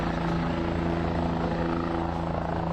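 A helicopter flying overhead in Long Beach, a steady loud droning whir with constant rotor and engine hum throughout.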